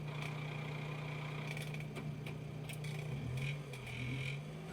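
Race car engines at the start line of a Donington Park trackday championship race, a low steady rumble of several idling and revving motors heard from a distance, faint, with pitch rising and wavering near the end.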